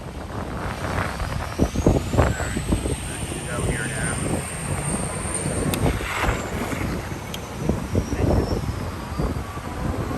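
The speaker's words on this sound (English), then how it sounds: "Really windy today, guys." Strong wind buffets the microphone on a busy Fort Lauderdale beach during spring break, with a steady rushing roar, someone talking over it and a plane droning faintly overhead.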